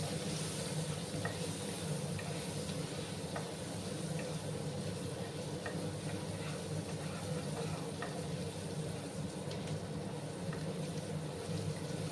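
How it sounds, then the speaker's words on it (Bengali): Paneer pieces fry in a pan with a steady, close sizzle and faint crackling that runs unbroken throughout, with no talking. "সেই পনিরগুলোকে আমি এবার সামান্য লাল করে ভেজে নেব"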